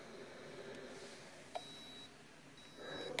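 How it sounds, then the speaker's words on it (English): A Hamilton Beach Durathon clothes iron beeps twice for its auto shut-off after lying flat too long: two sustained high-pitched tones about a second apart, fairly faint against quiet room noise. "the iron is beeping, telling me it wants to cut off because it was flat for a long time"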